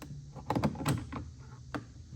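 Plastic trim cover snapping off the inside door panel of a Ram truck, pried with a plastic trim tool: a few close, sharp clicks and knocks within two seconds, with no talking.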